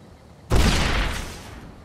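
A flashbang grenade detonates in the game Fallout: New Vegas: one sudden, loud blast that rings out and fades over about a second, with no voices.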